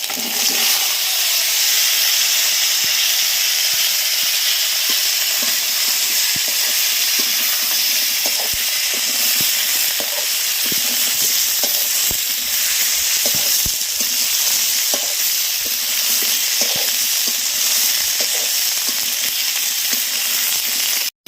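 Kohlrabi, potato, beans, chillies and ginger fry in a pan with a loud, continuous close sizzle. Occasional faint stirring knocks sound under the hiss.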